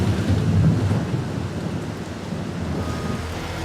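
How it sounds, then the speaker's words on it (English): A fierce storm over a New York City construction site, with heavy torrential rain roaring steadily and deep rumbling thunder and wind gusts swelling early, then settling into a dense, continuous downpour. "Torrential rain and high winds lash the site"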